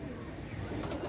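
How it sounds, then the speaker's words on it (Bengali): A pair of Pakistani Nildumba pigeons cooing softly, close up, in a short low murmuring burst over a steady background hum. "এই জোড়া হচ্ছে পাকিস্তানি নীলদুম্বা কবুতর"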